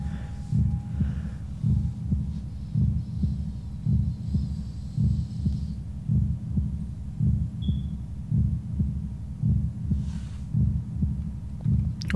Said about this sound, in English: a heartbeat.